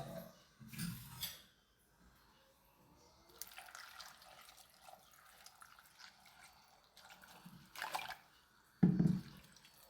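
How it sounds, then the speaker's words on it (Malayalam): Water is poured into a pot of pumpkin curry in soft, short splashing bursts spread across a very quiet kitchen, with faint trickling between pours. "ഇനി അതിലേക്ക് വെള്ളം ഒഴിച്ചു കൊടുക്കുകയാണ്."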